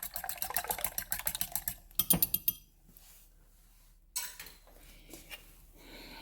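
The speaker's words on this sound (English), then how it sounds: "So I'm going to whisk these up real quick." A whisk beats eggs in a bowl for a coconut banana cream pie custard, making a rapid run of light metallic clicks and taps that pauses briefly, then resumes more softly, with no talking.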